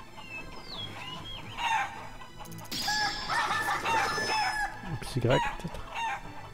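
Chickens cluck and crow in bursts within the video game Shenmue, with someone speaking briefly in French over the birds near the end.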